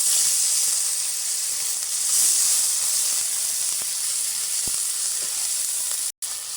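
Onion paste hits hot oil with a loud, steady hiss and sizzle for a fish curry with potato and cauliflower, the frying noise continuous with a brief dropout near the end.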